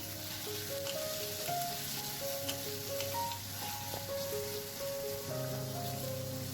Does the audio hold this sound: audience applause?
no